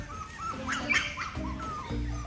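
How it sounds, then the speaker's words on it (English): Boston Terrier puppies whimpering and yipping close by, a string of short high-pitched whines and small barks with no talk over them. "These puppies, these Boston Terriers, were all born in Georgia."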